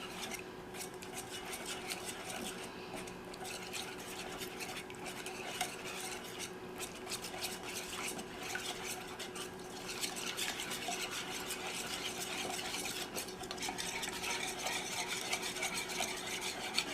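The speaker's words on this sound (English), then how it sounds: "you come and you mix it all together until it makes like this sauce" Sauce ingredients are mixed together in a bowl, making a faint, continuous scraping and clinking of a utensil at close range, with no voices.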